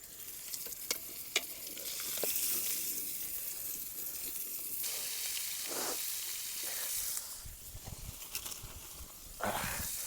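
Fish pieces fry in a pan of oil in a village kitchen, a steady crackling sizzle close by with occasional sharp spatters and stirring scrapes, and no one speaking.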